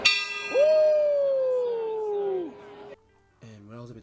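A bell rung by a graduating student at a college graduation gives a single clear strike at close range, its tone ringing and slowly decaying for about two seconds before a voice speaks.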